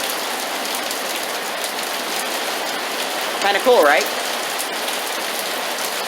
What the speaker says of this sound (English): So this is it. It's raining.